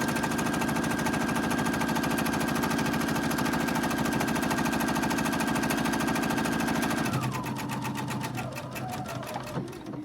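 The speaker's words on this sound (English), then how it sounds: "I'm going to sew inside the gold line" A domestic sewing machine stitches a bowl-shaped fabric mask, a steady rapid mechanical hum that runs for about seven seconds, then slows and stops with a few clicks, close and loud with no talking.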